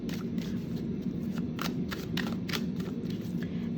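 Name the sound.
shuffling tarot cards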